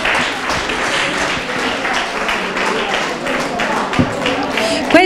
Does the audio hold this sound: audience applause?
yes